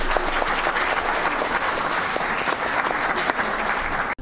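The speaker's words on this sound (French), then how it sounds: "Ibrahima Théola mérite 10 secondes d'applaudissements nourris." An audience at a business entrepreneurship event gives sustained, loud applause, dense clapping that continues evenly for several seconds before cutting off abruptly.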